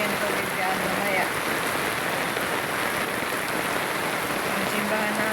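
Continuous heavy rainfall hissing and splattering on surfaces in Samar, Philippines, a steady wash of drops with flooding water and faint voices murmuring in the background.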